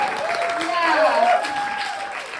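A stand-up comedy audience claps and whoops for a couple of seconds, a warm burst of applause from a mid-sized room under a lingering voice.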